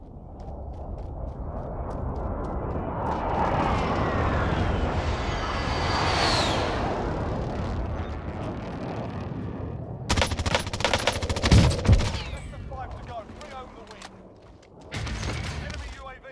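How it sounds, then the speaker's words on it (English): Fortnite precision airstrike: a rising aircraft roar swells over several seconds, followed by a dense volley of sharp blasts and rapid gunfire-like impacts, then a final loud burst near the end. "Enemy precision airstrike,"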